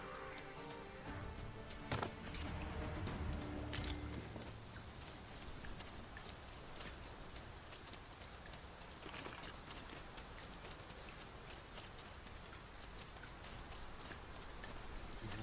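Steady rain falls in the fantasy video game Dragon's Dogma 2, a dense hiss with spattering drops, and faint horse-like clip-clop and footsteps mixed in early on.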